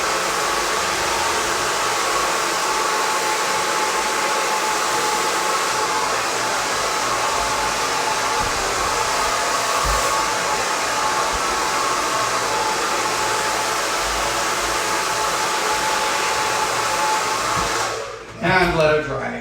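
A handheld hair blow dryer runs steadily and loudly as someone dries hair at home, a constant broadband whoosh held for nearly the whole stretch before it cuts off abruptly near the end.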